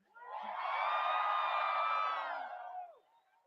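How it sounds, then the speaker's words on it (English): A large crowd at an election rally in Ottawa, cheering and whooping in one sustained roar that builds quickly, holds for a couple of seconds and then fades out. "what an incredible crowd"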